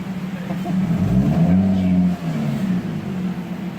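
A car engine revs hard during reverse burnouts in a driveway, a loud, steady low rumble that swells and settles, with voices faintly underneath.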